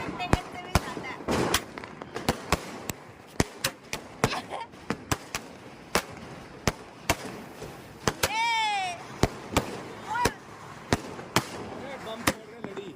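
A 30-shot Diwali firecracker box in Delhi bursts in a steady series of sharp bangs, roughly one every half second, with a whistling rocket sound midway and excited voices talking between the blasts.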